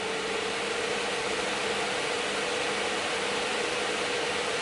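AMD Radeon RX 6900 XT reference-design graphics card fan spinning at high speed, a loud steady broadband whoosh with a faint constant tone, unbroken and close.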